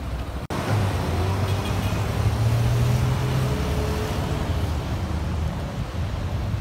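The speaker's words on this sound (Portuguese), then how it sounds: "carro do exército já se prontidão aqui" An army vehicle idles with a low engine rumble amid outdoor wind and road noise at a paratrooper training ceremony, a steady drone lasting several seconds after a brief sharp click at the start.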